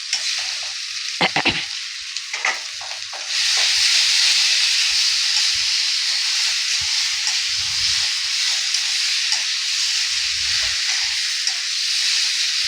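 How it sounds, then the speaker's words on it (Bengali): Potatoes and pointed gourd hit hot oil in a pan for a Bengali aloo potol dalna, first a few clinks and stirs, then a loud, steady sizzle and hiss that carries to the end under occasional scraping. "আমি এই পটল আর আলুটা এর মধ্যে ঢেলে দিচ্ছি। ঢেলে দিয়ে ভালো করে কষিয়ে নেব।"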